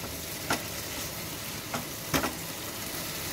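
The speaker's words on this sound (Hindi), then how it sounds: "और इसे आपने इतना भूनना है कि इसमें से जो घी है वो रिलीज होने लग जाए।" Mushrooms roasting in ghee give a steady, close sizzle and crackle, broken by a few soft stirring scrapes, with no voices.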